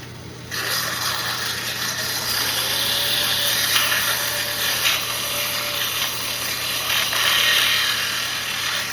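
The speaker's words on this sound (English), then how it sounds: "Needs a little sanding. Get a little sandpaper in there." Continuous scratchy rubbing of sandpaper on wood, close and steady for several seconds over a low background hum.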